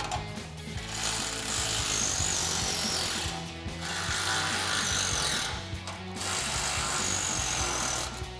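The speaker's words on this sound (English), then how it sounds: "we're going to take a 5mm Allen socket and a 13mm wrench to tighten all these down" Bolts on a RedRock XD1 aluminum hard-top roof rack for a 2021-2024 two-door Ford Bronco being tightened with a 5mm Allen socket and 13mm wrench, giving steady, loud ratcheting clicks in three long bursts with short pauses.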